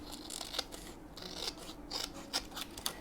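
Scissors snipping around a paper image for a craft journal, a quick series of close, crisp cuts alone in a quiet room.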